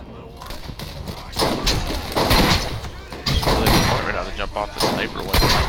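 Gunfire in the video game Borderlands, a dense run of loud overlapping shots and bursts that blur into a steady roar, with a voice talking over the action.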